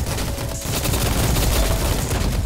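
Rapid SMG fire in Roblox Rift Royale, a dense, continuous automatic burst spraying loud and close for a couple of seconds with no pauses.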